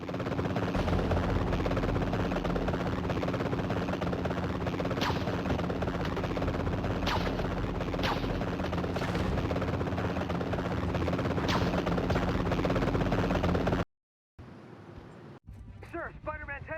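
A black helicopter in the Spider-Man 3 PSP video game drones steadily with a loud, continuous rotor and engine roar, broken by faint sharp hits, before cutting out abruptly near the end.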